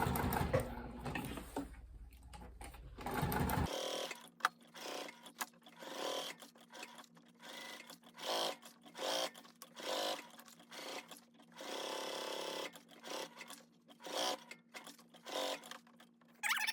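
Sewing machine running steady stitching bursts while free-motion quilting a fabric wallet in an all-over wild pattern, with short pauses between runs and a loud rustle of fabric handling at the start.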